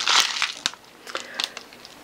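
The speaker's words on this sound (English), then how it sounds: "it's a noisy bit of haul because there's a big bag of beads and charms" A big plastic bag of beads and charms crinkles up close in a few sharp rustling bursts, loud at first, then lighter scattered crackles with brief pauses between them.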